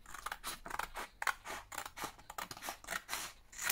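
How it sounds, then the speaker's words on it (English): Scissors cut through paper card along a marked line, making a run of crisp, rhythmic snipping strokes, close and clear with short gaps between cuts and no talking. "I'm going to cut it on that red line there"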